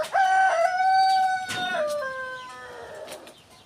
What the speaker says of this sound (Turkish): Ha tavuk kaptı.